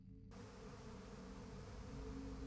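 Bees buzzing in the video game Psychonauts 2, a steady, fairly faint droning hum that continues throughout with no talk.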